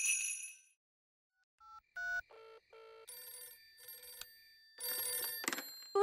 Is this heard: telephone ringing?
yes